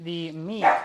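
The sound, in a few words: dog barking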